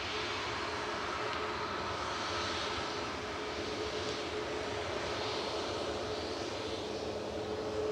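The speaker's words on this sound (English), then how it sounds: "Ryanair to Barcelona with flight 7542 departing next." A Ryanair Boeing 737 MAX 8200 departing Manchester Airport for Barcelona gives a loud, steady jet-engine roar that stays constant and close for the whole stretch, with no voices.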